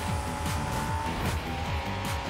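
Arcade race car in the video game Hotshot Racing drifting, a steady loud engine drone with rising and falling pitch sweeps and a squealing tire skid through the corner.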